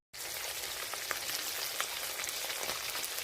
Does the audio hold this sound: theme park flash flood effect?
no